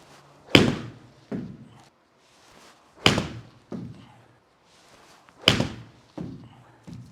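Full golf shots with a pitching wedge striking a Callaway Chrome ball: three crisp, loud impacts spaced about two and a half seconds apart, each followed shortly by a softer thud, with quiet gaps between.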